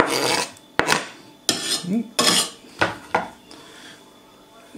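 A knife cuts vegetables into large chunks for a vinaigrette beet salad, giving about half a dozen sharp, close chops on a board at an uneven pace, with a brief spoken word at the start.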